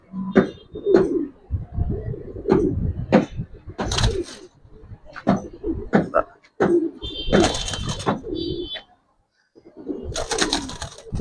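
Male Giribaz coloring pigeons coo close by, their low throaty calls mixed in with someone talking throughout, with a few sharper bursts and brief pauses.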